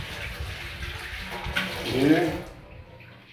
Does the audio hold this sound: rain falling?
no